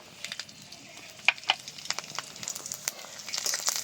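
Garlic cloves are added to dried red chilies that have already fried in a pan for a cauliflower bharta, and they crackle with a light, steady sizzle and scattered pops, close up with no talking.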